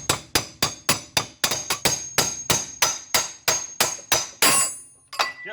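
A hammer pounds on a suspension part of a GTO to break it loose, about a dozen sharp, evenly spaced metallic blows in a steady rhythm, loud and close, with no talking.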